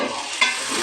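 Panch phoron five-spice and black cumin seeds sizzle in hot oil for a carrot, onion and potato stir-fry, a steady close hiss with a brief metallic clink partway through, no voices.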